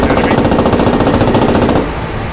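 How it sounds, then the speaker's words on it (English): Rapid automatic gunfire in a first-person shooter video game, a dense run of loud shots for about two seconds before easing off, with no talk over it. "Someone just shot from over there."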